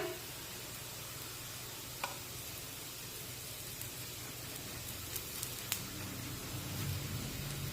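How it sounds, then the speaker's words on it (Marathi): Dahi dhapate flatbread roasts on a pan after oil is brushed over the top, producing a soft, steady, faint sizzle with a few small taps and crackles. "आता याला वरून तेल लावून घेऊया"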